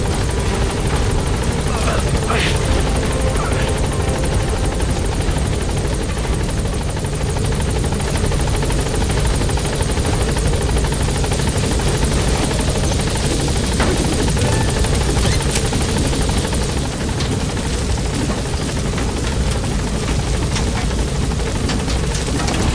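A helicopter in the video game Metal Gear Solid V: The Phantom Pain roars while gaining altitude, its dense rotor thrum and engine whine loud and unbroken throughout, with faint radio-style voices mixed in.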